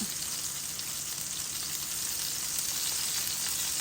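Fish fries steadily in a pan with a continuous, fairly loud hiss and crackle, with no talking over it.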